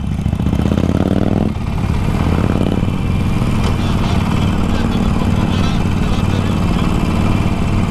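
A Harley-Davidson motorcycle engine rumbles loudly and steadily up close, with a deep throbbing idle and a brief shift in pitch early on.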